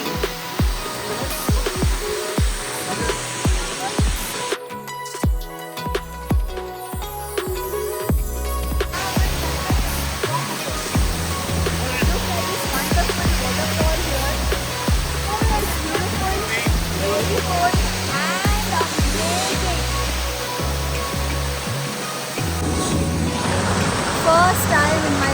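A constant roar of rushing, cascading water fills the scene, with voices and footsteps heard intermittently over it.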